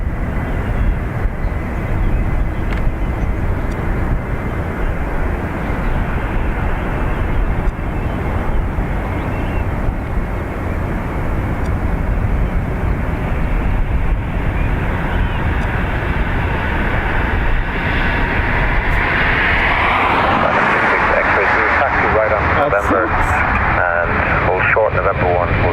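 Airliner engines rumbling loud and steady near Dublin Airport runway 28 right, a dense low roar that rises and swells toward the end as the jet powers up.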